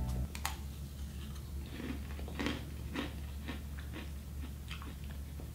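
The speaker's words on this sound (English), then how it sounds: "I'm gonna do a quick ASMR so you could hear the crunch of these." A crunchy snack is chewed close to the microphone in a quiet room, giving a series of soft, irregular crisp crunches and bites with no talking.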